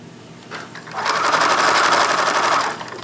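A sewing machine stitching bonded fleece for a reversible skirt starts softly, then settles into a steady, close mechanical whir for about two seconds before easing off, with no voices.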